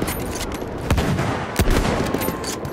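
Rapid gunfire in the World War I shooter game Battlefield 1, with loud bursts and cracking shots over a dense battle din, close and continuous.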